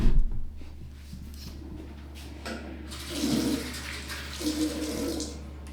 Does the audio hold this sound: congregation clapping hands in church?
no